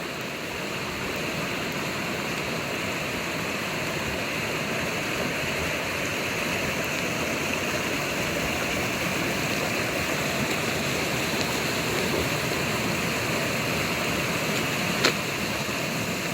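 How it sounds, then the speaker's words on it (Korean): Water flowing down a stream gives a steady, full rush and splash close by, unbroken throughout, with no talking. "아이고 시원하게 내려갑니다 물이"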